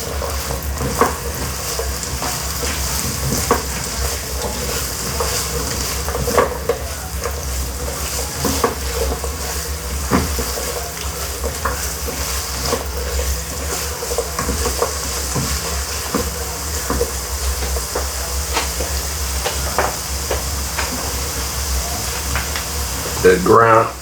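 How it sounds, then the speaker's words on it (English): Carrots sweating in a pan for a vegetable spaghetti sauce, giving a steady soft sizzle with occasional stirring and scraping. The sound runs continuously for the whole stretch at moderate loudness, with no talking over it. "Now we want to introduce the carrots. We want to get those sweated down"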